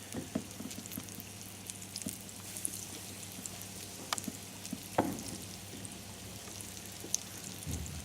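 Breaded chicken goujons fry in a pan over medium heat in a school kitchen, giving a faint, steady crackle with scattered pops and light clinks throughout, no speech.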